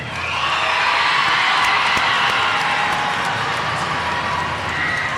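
Loud, continuous clapping and cheering from a large crowd for a school jazz band, with occasional whoops rising above the steady roar.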